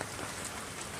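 Steady rain pours down on a rainy day, a dense, even hiss of drops hitting surfaces with no pauses, fairly close and constant throughout.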